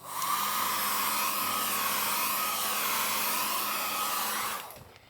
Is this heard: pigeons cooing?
no